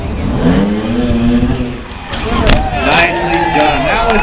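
An off-road vehicle's engine revs hard while climbing an obstacle at an off-road demo outside a pub, rising in pitch and holding loud and close, with a crowd murmuring and people talking in the background.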